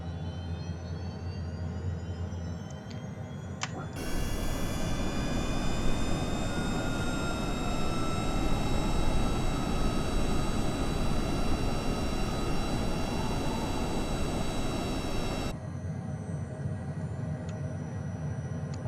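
Inside a HondaJet on approach with flaps extending, a steady cabin roar of engine and airflow swells louder for a long middle stretch, then settles back, with faint high whining tones running through.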